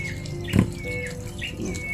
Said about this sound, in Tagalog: Ang ingay itong ibon dito sa paligid na ako na disturbo.